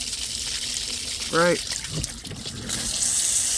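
Water rushes steadily past a thru-hull water pickup on a Marine Animal twin-hull catamaran moving fast, a continuous broadband wash with a brief spoken word over it.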